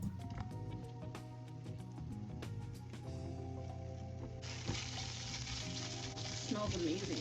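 Food frying in a pan on full heat hisses and sizzles steadily up close, with a brighter burst of crackling partway through and faint background music or hum underneath.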